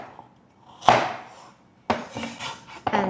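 A knife chops carrots into large chunks on a cutting board, giving two or three sharp, separate knocks with short pauses between them, close and fairly loud, with no talk.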